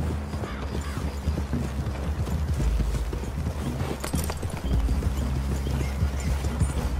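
Horses' hooves clip-clop steadily on the ground in Red Dead Redemption 2, several animals walking together over a low rumble of ambient game sound, with occasional faint rustles and no clear speech.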